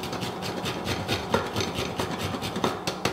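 Whole nutmeg being grated by hand for cupcake spices, a close, steady rhythmic rasping with repeated scraping strokes and an occasional sharper scratch, no voices.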